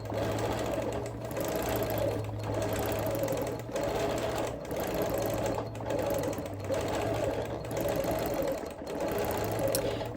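A sewing machine stitches custom quilting on a Quilt of Valor, running in steady bursts of rapid needle hum broken by short pauses, close and moderately loud with no talking.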